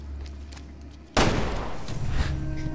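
A sudden loud blast in the video game Resident Evil Revelations 2 cuts through a low background hum, followed by a crackling, roaring burst of noise that keeps rumbling to the end.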